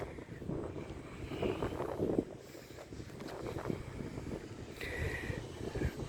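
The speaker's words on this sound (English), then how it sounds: "It is extremely windy." Strong, gusty wind buffets the microphone at a roadside, a steady broadband rumble that swells and eases throughout with no talking.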